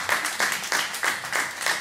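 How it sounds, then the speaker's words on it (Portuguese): An audience at a live concert claps steadily for a band member in dense, continuous applause that swells in rhythmic waves, with no voices standing out. "Peço uma salva de palmas para ele, por favor."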